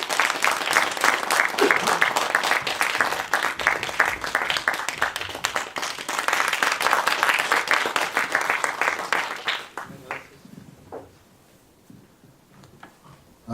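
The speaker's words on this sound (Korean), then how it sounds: "박수 소리가 너무 크니까 귀가 얼얼합니다." A lecture audience gives loud, sustained applause welcoming a former presidential chief of staff to the stage. Dense clapping holds steady for about ten seconds, then thins to scattered claps.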